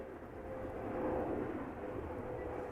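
A KLM Boeing 777-300ER arriving at Amsterdam Schiphol from Vancouver makes a faint, steady jet rumble with a soft tonal whine, heard from a distance for a few seconds.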